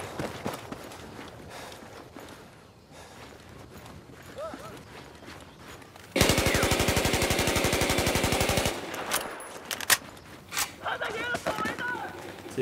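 Gunfire in an Xbox One video game: a dense automatic burst of rapid, evenly spaced shots lasting a couple of seconds, loud against quieter game sounds and scattered voices before and after.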